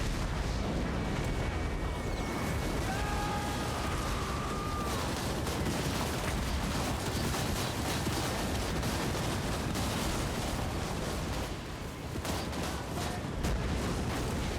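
Grenade launchers firing in a Total War: Warhammer 3 modern-warfare battle, their thuds buried in a dense, continuous wash of gunfire, explosions and battlefield noise.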